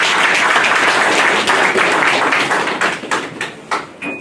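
Loud crowd applause for women at a political morning event of the opposition, a dense wash of clapping that holds steady and then thins into scattered claps near the end, with no talk over it.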